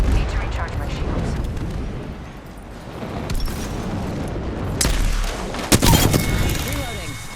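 A salvo of Valkyrie's missile swarm rockets bursts in Apex Legends, a rumbling chain of explosions building to sharp blasts near the end, mixed with other game sounds.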